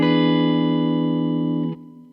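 A single sustained seventh chord rings out on an effects-processed guitar, a steady bright harmonic tone that holds for almost two seconds before cutting off abruptly, leaving a faint tail.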